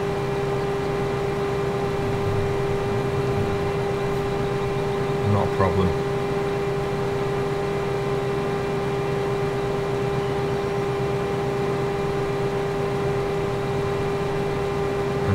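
Tractor engine running steadily in Farming Simulator 2015, a constant droning hum with tonal whine throughout, under brief talk.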